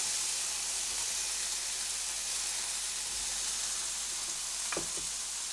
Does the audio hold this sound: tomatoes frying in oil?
yes